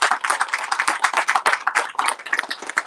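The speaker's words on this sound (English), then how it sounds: "So let's give them a round of applause and all of their team." A small crowd at an outdoor apartment groundbreaking ceremony in Weslaco claps for the Prospera team, with distinct, fairly close individual handclaps overlapping in a loose, uneven patter throughout.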